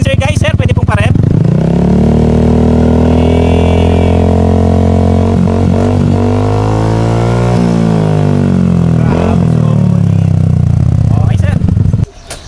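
A Yamaha Xmax 300 fitted with an Akrapovic full-system muffler, silencer removed, idles with a loud, deep, steady burble, then revs and settles back, close up, with someone talking over it.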